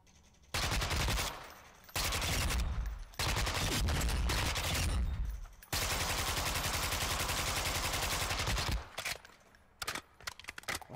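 Automatic rifle fire in Modern Warfare II DMZ, with loud, close bursts of rapid shots in several long strings, one sustained volley of several seconds, then quieter gaps and short trailing bursts.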